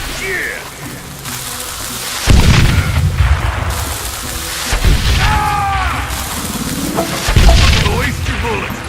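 Gunfire in the western shooter Call of Juarez: Gunslinger: three heavy, booming shots land roughly two and a half seconds apart, loud and close, over a bed of continuous game ambience.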